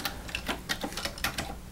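Keys clacking on a Commodore computer keyboard while typing in GEOS, a quick uneven run of close, crisp taps with no talking.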